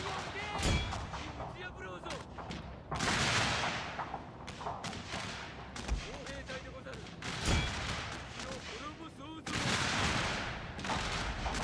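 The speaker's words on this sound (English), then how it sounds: "let's see if we can reach out and hit the enemy with these artillery" Artillery booms and volleys of gunfire in the Shogun 2 strategy game, repeated heavy blasts and crackling shots layered over ongoing battle noise with some talk.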